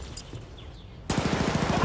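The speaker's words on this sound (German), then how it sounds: "Stehe unter Beschuss!" A quiet stretch in the video game Battlefield: Bad Company 2 breaks into a rapid burst of automatic gunfire, dense and sharp, with a couple of faint shots before it.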